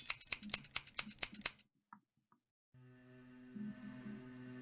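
Scissors snip hair in the video game Loretta: about eight quick, crisp, evenly spaced snips close up, then near silence, then a soft musical drone.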